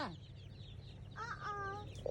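Chickens at a chicken house cluck in short bursts over a low steady hum, with a rising squawk near the start and a clearer run of clucks in the middle.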